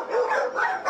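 Dogs bark and yip in an animal shelter crowded with young dogs, a brief burst of close, loud overlapping barks lasting about a second.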